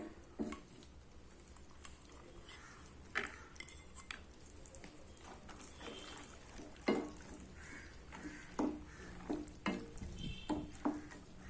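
Boiled chana dal added to tomatoes sautéing in a pan for tomato kootu, with a soft sizzle underneath and scattered close scrapes and stirring knocks of a spoon against the pan.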